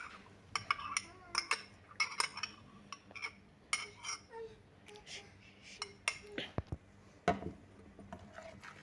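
Egg yolks are whisked in a big bowl, producing quick, irregular clinks and taps of utensil against the bowl in short bursts, fairly quiet and close.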